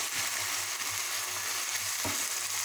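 Minced meat sizzles and fries with onion and pepper paste in a pan for the Turkish stuffed bulgur meatball filling, a steady close crackle with soft stirring scrapes and no talk.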